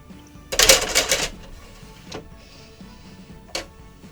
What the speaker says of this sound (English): I hit my printer